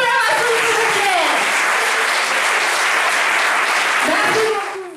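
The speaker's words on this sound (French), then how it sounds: "applaudissez pour la Racine" Loud, dense applause from a French school awards audience at a media and journalism prize, sustained across the clip and trailing off at the close, with some voices underneath.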